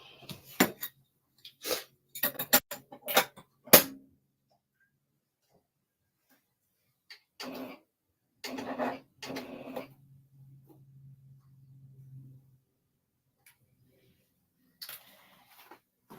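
A sewing machine stitches a Gemstones quilt block in several short rattling runs separated by silent pauses, close and fairly quiet, with a voice speaking briefly in between.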